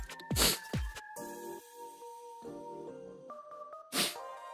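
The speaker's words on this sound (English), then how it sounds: "It's so cold and I'm sneezing." Two loud, close sneezes burst out, one near the start and another near the end, from someone complaining of the cold, with soft tonal game music playing steadily underneath.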